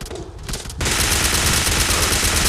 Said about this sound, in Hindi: क्योंकि दोनों तरफ से गोलियाँ चलती रहती है।